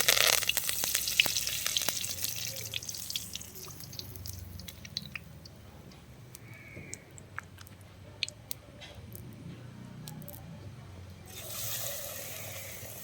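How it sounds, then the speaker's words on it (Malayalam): Boneless chicken leg pieces fry in hot oil with curry leaves, giving a soft, continuous sizzle with scattered crackles and pops close by, louder at the start and again near the end. "നല്ല അടിപൊളി ചിക്കൻ ഫ്രൈ"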